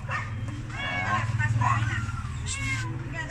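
A cat meows several times in drawn-out, wavering cries, close and fairly loud, over a steady low rumble.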